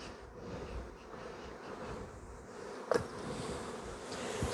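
Honeybees buzz in a dense, steady swarm while being shaken out of their original hive box during a honey flow, with a sharp knock or bump about three seconds in and no talking.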